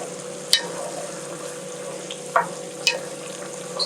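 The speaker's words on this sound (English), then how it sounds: "let's wait for the liver to cook. You can see it's still cooking." Liver frying in a pan in a home kitchen, a steady low sizzle running throughout with a few brief sharp crackles and pops standing out.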